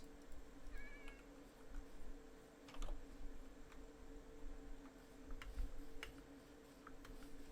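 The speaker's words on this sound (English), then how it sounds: "cats. I hear cats." Minecraft cats in Vault Hunters give a short, faint meow early on, while light keyboard typing and clicks tick quietly in the background.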